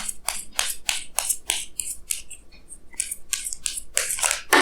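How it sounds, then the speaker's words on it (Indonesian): Tarot cards fall and are shuffled and handled close by, a run of quick papery slaps, flicks and rustles in uneven bursts. "Kartunya pada jatuh."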